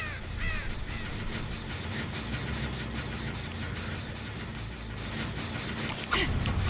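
Crow caws in the horror video game Dead by Daylight, heard over a steady low engine-like game ambience, with a few faint calls and a louder burst near the end.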